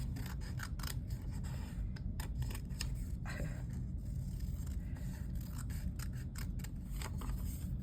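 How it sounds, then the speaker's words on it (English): Scissors cutting printed words out of paper for junk journal tags: continuous close snipping and rustling with repeated sharp cuts throughout, no voices heard. "I'm going to cut that out right now."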